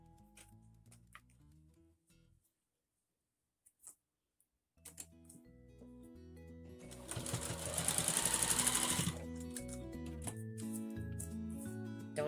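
A sewing machine stitching a fabric face mask, running in short bursts and then one long steady loud stretch near the end, with no talking.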